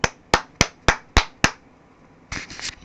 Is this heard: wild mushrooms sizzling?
no